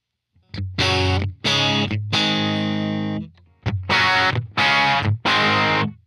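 An electric guitar through a Deluxe Reverb amp simulation with no pedal engaged plays clean-to-slightly-gritty chords on the edge of breakup, several strummed hits and one long ringing chord, separated by short pauses.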